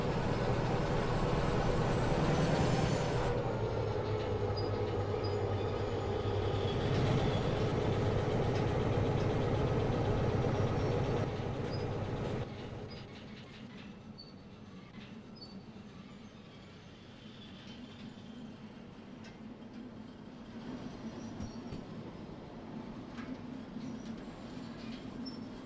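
A heavy freight train in the video game Derail Valley, hauling about 384 tons of cargo, runs with a loud steady engine drone that drops abruptly to a quieter rolling rumble partway through.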